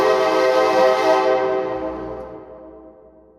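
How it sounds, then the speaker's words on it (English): A train horn sounds loud and close, a sustained harmonic blast that holds steady and then fades away gradually. "The ubiquitous sound of the train horn reminds us that it is recap time."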